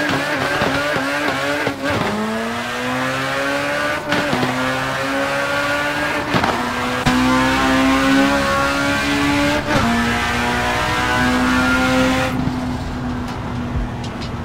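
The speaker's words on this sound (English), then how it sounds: "I'm back in my Fiat Pinto. Foot on the clutch, accelerator in," A Fiat Pinto launches in the Assetto Corsa racing game, its engine revving loud and steady with rising pitch through several gear changes, with tire squeal and a short drop at the end.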